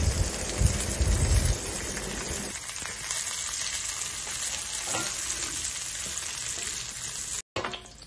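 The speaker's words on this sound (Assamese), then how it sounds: "এয়া লৈছোঁ ড্ৰাই ফ্ৰুটছ, এইখিনি ঘিত অকণমান ফ্ৰাই কৰি ল'ম।" Dry fruits frying in ghee for gajar halwa give a steady, close sizzle with crackles, louder and rougher at first with stirring clatter, then settling into an even hiss before a brief cut.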